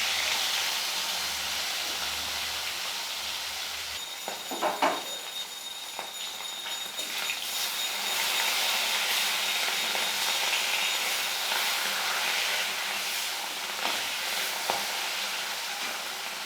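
Medium-sized hilsa fish pieces fry lightly in hot oil in a wok, giving a steady hissing sizzle with brief louder spatters and occasional stirring.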